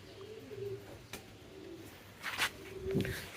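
Pigeons cooing softly at a pigeon farm, a few low murmuring coos over faint background noise with a brief chirp, fairly distant and quiet.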